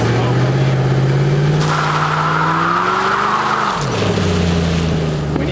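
A car doing a burnout, its engine revving hard with a rising and falling drone while the tires spin and squeal. The sound is loud and continuous and close by, and a voice is faintly audible underneath.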